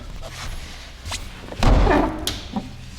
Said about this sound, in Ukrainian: Зараз буду пробувати відкривати цю дверку, бо вона щось не дуже хоче відкриватись по-нормальному.